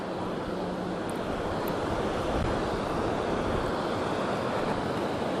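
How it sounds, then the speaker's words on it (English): Constant rushing roar of water pouring over a river dam in Texas, steady and fairly loud with some wind buffeting. "there's a dam over here to the left, and that's what's making that noise"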